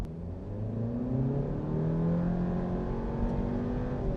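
A 2019 Mazda 3 with all-wheel drive and a CVT pulls away at full throttle, a steady droning engine hum holding near-constant pitch as it accelerates, loud and continuous with no speech.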